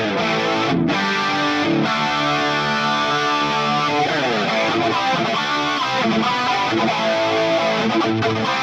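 An electric guitar played through a Fractal Audio AX8 with a chorus effect, a loud, shimmering, distorted tone of sustained chords and ringing notes that continues without pause and with no talk.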